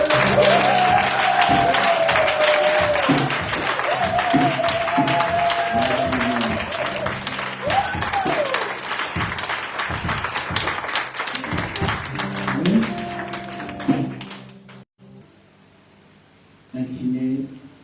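A church congregation applauds in a dense, sustained burst of clapping mixed with cheering and raised voices, loud and continuous for most of the stretch before dropping away abruptly near the end.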